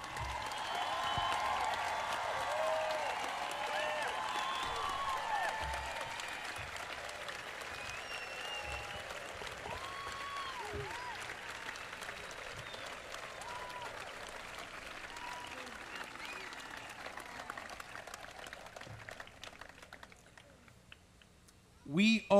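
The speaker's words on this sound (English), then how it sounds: "Let's applaud them for their sacrifice" A crowd at an outdoor political rally applauds veterans with sustained, distant clapping, mixed with scattered cheers, whistles and voices, fading gradually before a short loud bump at the end.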